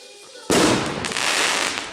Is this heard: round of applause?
no